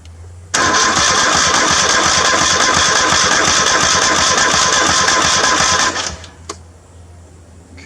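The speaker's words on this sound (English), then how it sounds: "I guess I'll put the camera on the engine so you can watch the belt spin" Zero-turn mower engine cranking, catching, and running loudly and evenly at close range for about five seconds before cutting out, followed by quiet background noise.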